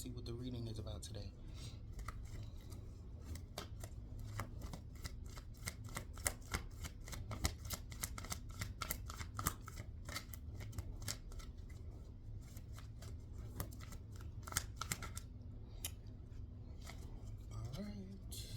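Affirmation cards shuffled and riffled by hand in a rapid, crisp run of flicks and taps that goes on steadily, close and fairly loud, while a voice speaks now and then.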